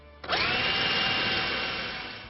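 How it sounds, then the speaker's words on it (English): A power drill with a 1/4 inch bit spins up and bores into a motorcycle fender, one steady high whine held close and loud for about two seconds, then easing slightly toward the end, with no talking. "you're going to drill 4 mounting holes with a 1/4 inch drill bit"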